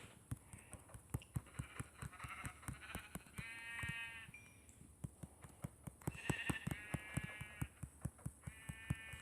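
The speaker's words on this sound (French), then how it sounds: "Là, on a 12 moutons, là." Sheep in a video game bleat repeatedly in wavering calls over a steady stream of sharp clip-clop footsteps, with game ambience running throughout.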